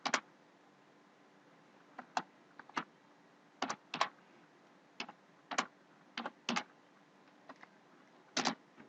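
Typing a command on a computer keyboard: scattered single keystrokes and short clusters of clicks, close and quiet in an otherwise silent room.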